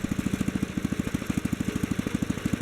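A small Kohler K-series engine idles steadily after carburetor adjustment, its low rhythmic putter chugging evenly and close by without pause.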